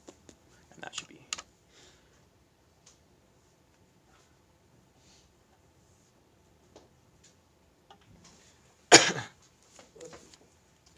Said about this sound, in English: It's actually a little cough that I do